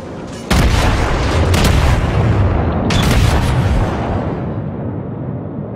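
Japanese battleship Myogi's main guns firing in World of Warships, several heavy booming salvos in quick succession, each a deep crack followed by a long rolling rumble that slowly fades.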